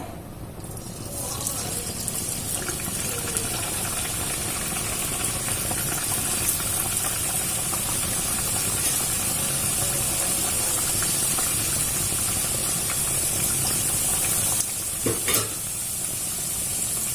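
Loud, continuous sizzling of egg puffs frying in hot oil, steady crackle throughout with a couple of sharper clicks near the end.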